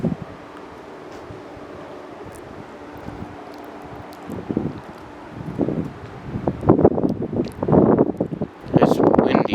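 Wind gusting during a windstorm in southeastern Pennsylvania, a low rumbling roar against the microphone that builds into stronger, louder gusts toward the end.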